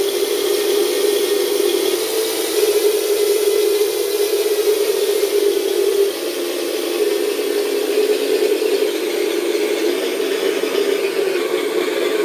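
Twin-engine sound module in a P-38 RC model plane at low idle, a steady droning engine hum with a raspy texture, loud and unbroken apart from a brief dip midway.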